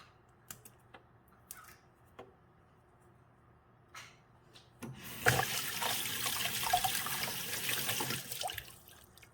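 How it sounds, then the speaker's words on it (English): A bare-root strawberry plant is rinsed in water for hydroponic planting. After a few quiet taps and clicks, a close, steady splashing rush of water runs for several seconds, then fades. "I can still feel a little bit of sand in this one, so give it a little extra rinse."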